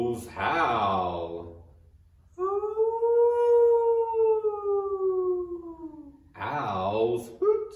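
A single long, wavering wolf howl imitated by children's voices, framed by breathy, gasping vocal sounds before and after.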